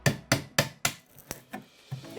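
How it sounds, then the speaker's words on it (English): Sharp wooden knocks from a hammer driving a small chisel to take the edges off a plain black softwood beam: about eight distinct strikes, the first four loud and evenly spaced, the rest lighter and more irregular. "now I'm going to get a small chisel and I'm just going to take a few little edges off"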